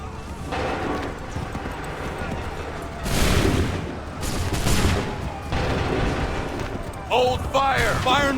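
Massed musket volley in the Assassin's Creed III game, a loud crackling fusillade of shots among battle noise and horses, with shouted commands in between.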